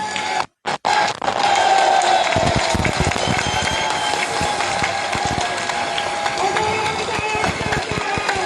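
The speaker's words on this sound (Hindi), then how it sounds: "अपनी कुर्सी पर खड़े होकर जोर से तालियां बजाएं" A crowd standing on chairs at a political birthday gathering bursts into dense, sustained applause after a brief pause, and the clapping continues loud and close with voices mixed in.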